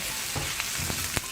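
Sliced onion and spring onion sizzle in hot oil in a pan, a steady loud fry with a few sharp stirring scrapes as they cook for a spicy black squid dish.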